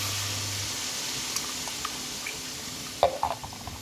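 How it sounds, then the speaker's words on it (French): Lasagne roulade mixture being stirred with milk in a pan, a soft continuous swishing over a steady background hiss, with a few light scraping knocks near the end. "donc je mélange bien et puis je vais aller rechercher du lait"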